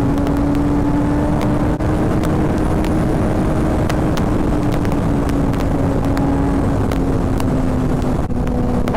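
A Suzuki GSX-R 600 motorcycle cruises on a highway, its engine holding a steady, loud drone under heavy rushing wind noise with no breaks.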